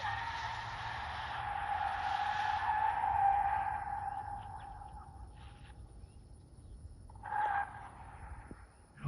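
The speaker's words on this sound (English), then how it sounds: "when you drive a car for the first time and it doesn't have ABS, you lock up and slide off the track" A car without ABS locks its tires and slides on a race track, giving a sustained tire squeal that fades over several seconds, then a second brief squeal, moderately distant.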